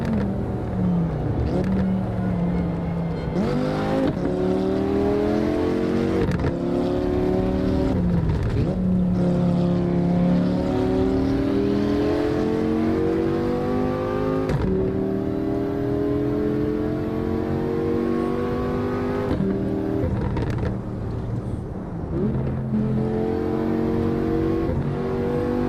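Race car engine from the driving game Assetto Corsa, loud and continuous through a lap, with revs climbing through gears and dropping on shifts and braking, no talk over it.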